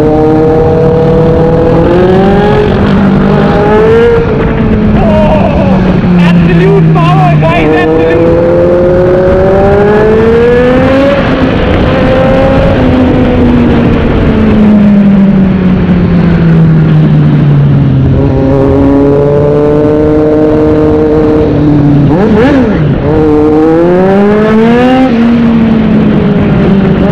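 A 2020 Kawasaki Z900 motorcycle, loud and close, revving again and again, its pitch climbing and falling with each throttle blip as the exhaust roars, with no voices.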